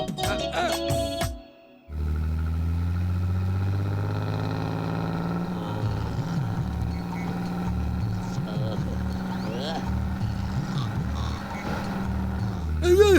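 A bus engine rumbles steadily at low speed, its low drone shifting slightly as it moves, with background voices and clatter throughout.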